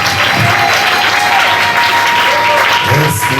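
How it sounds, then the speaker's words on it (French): A church congregation applauds and cheers for Jesus at a Sunday worship service, steady loud clapping filling the room throughout with voices mixed into the crowd. "On acclame le Seigneur très fort."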